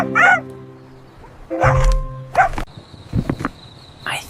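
A cartoon puppy from PAW Patrol lets out short high yelps and whimpers in a few quick bursts, mixed with brief cartoon sound effects.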